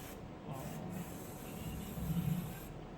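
Hair dye sprays onto a person's scalp in short hissing bursts, soft and close, with faint rubbing in between.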